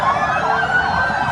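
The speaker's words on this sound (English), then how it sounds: "Ambulances leave Beirut for southern Lebanon." Ambulance sirens wail as ambulances leave Beirut for southern Lebanon, a loud, close, continuous wavering tone with street traffic noise beneath, sustained throughout the short moment.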